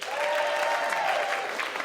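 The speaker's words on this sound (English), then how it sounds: "Round of applause for Brandon." Studio audience at an improv comedy show breaks into steady clapping, a dense, lively burst of applause lasting a couple of seconds.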